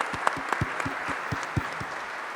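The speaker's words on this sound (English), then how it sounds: "maybe we can give an applause to him" Sparse, scattered clapping from a small audience at a technology summit discussion, a few distinct claps spaced irregularly rather than a full ovation, fairly quiet in the room.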